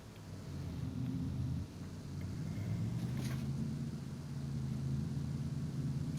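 A truck engine in Farming Simulator 22 runs with a steady, low rumbling drone. It holds at a constant, moderately loud level throughout, with no voices over it.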